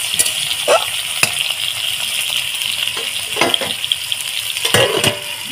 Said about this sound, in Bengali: সব সবজিগুলো ভেজে নেব